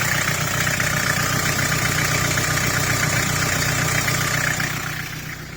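A Ford Fairmont AU sedan's engine idles steadily up close, a rough continuous drone with vibration and no talk.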